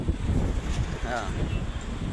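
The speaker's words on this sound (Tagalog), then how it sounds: "Kaya medyo mahangin panahon namin dito." Steady gusty wind buffets the microphone, a broad rushing roar that stays loud throughout with no clear speech.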